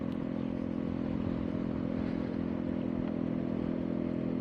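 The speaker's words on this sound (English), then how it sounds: "the scooter just purrs about, so it's a bit noisy with the exhaust" A 2016 Peugeot Django 125cc scooter runs with its engine and exhaust giving a steady, moderately quiet purring drone, with a light clattering texture throughout and no talking.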